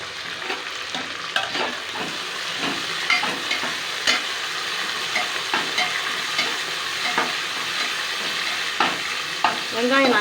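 Small onions for biryani fry in a pan with a continuous close sizzle, broken by frequent scrapes and taps of stirring, and no voices.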